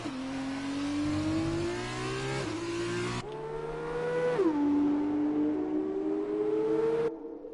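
Racing car engines in a sim racing game on the Azerbaijan round hold steady high revs, drop and climb with each gear shift, and ring loud and close with no talking.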